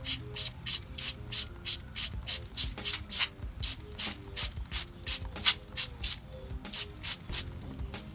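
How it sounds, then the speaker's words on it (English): Rhythmic bursts of aerosol cleaner sprayed into the holes of an O2 sensor head, about twenty-five short hissing pulses in steady succession, close and fairly loud with nobody talking. "so now you want to start by spraying inside the holes right here on the sides."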